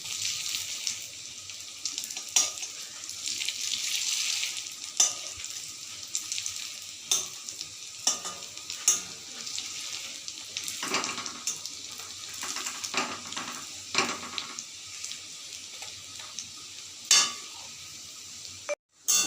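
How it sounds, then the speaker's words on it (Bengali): An egg and bread chop fries in a pan with a constant crackling sizzle, broken by repeated scraping and tapping as it is stirred and turned, ending with a louder clatter near the close. "এবার অন্য পিঠটাকেও উল্টে দেবো ভাজার জন্য এরকম লাল লাল করে ভেজে নেব"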